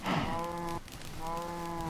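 Cows mooing on a Minecraft farm, the game's lowing calls repeating in two long drawn-out moos with a brief gap between, close and clear.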